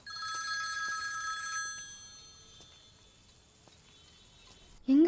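An old-style telephone bell rings in a bright, trilling burst, then fades to a quieter room tone before a sudden loud noise cuts in at the very end.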